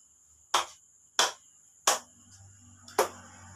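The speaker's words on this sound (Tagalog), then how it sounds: "bigyan nyo ng 3 palakpak ang inyong sarili" Three hand claps given by a class as self-praise during a lesson, plus a fourth, sharp and evenly spaced, close and fairly loud over a quiet room.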